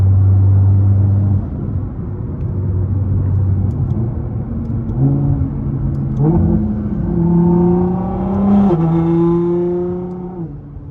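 Nissan R35 GT-R engine revving hard while driving, a loud, close rumbling drone rising through the gears with shifts and climbing pitch, heard alone from inside the car.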